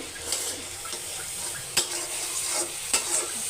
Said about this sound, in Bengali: মশলাটা সুন্দর করে ভেজে নেব।